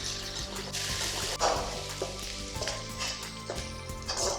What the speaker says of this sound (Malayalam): നന്നായിട്ട് സോട്ട് ചെയ്യുക.